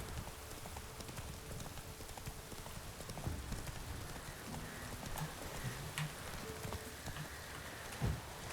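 Hooves of a horse clip-clop at an even trot in the video game Witcher 3, faint and fairly distant, with soft rain-like patter in the background and a sharp thump near the end.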